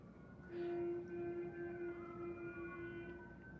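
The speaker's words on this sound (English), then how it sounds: "You hear those sirens? That's because it's an emergency." Emergency vehicle sirens wail steadily at a distance, a sustained tone with faint rising and falling overtones that persists throughout, alone with no talking.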